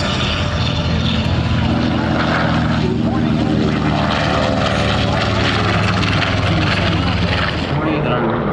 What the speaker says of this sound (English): No, this is the PBJ, the Marine Corps version of the B-25.